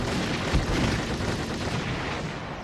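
Explosion in the Army Men RTS game, a muffled boom followed by rumbling, crackling debris and scattered battle noise at moderate loudness.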